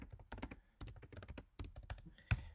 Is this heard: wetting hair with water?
no